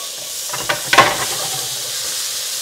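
Tomatoes drop into a hot pan of garlic, giving a short burst of hissing sizzle and a couple of soft thuds near the start, over a steady hiss of steam, with no talking.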